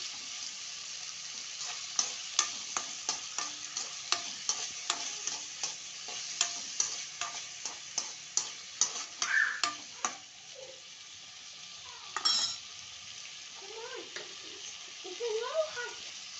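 Onion and tomato pieces sizzle in hot oil while a utensil stirs and scrapes the pan in steady clicking strokes, close and fairly loud, with a few faint voice-like sounds near the end.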